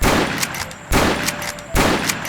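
Three loud, booming gunshots from Roblox's The Wild West, evenly spaced and close, each leaving a short ringing tail.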